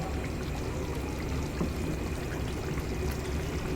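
Water is poured into sweet, spicy shrimp paste (alamang) while it cooks, giving a steady close-up stream that runs unbroken for several seconds.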